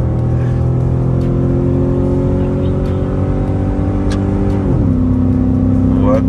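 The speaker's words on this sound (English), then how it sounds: "He's redlining it too." A Jeep Grand Cherokee WJ engine revs hard toward redline as a dense, steadily climbing drone. The note drops sharply at a shift near the end, then begins rising again, with faint talk in the background.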